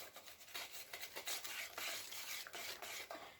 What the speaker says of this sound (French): Bien mélanger pour ne pas avoir de grumeaux